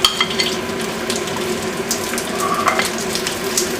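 Chinese sausage sautéing in hot oil in a pan for fried rice, a steady, close, watery sizzle with faint crackles running throughout, no voices.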